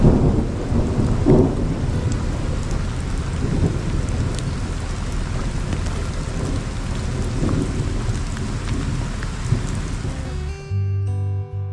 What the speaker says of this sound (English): now there's thunder, but I think it's off in the distance